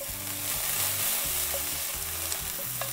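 Shimeji mushrooms and bacon frying in a pan for a garlic butter pasta, a steady close sizzle with a few light scrapes and clinks, no talking.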